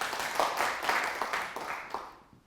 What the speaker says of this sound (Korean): 그 하신 분에게 박수 한번 보냅시다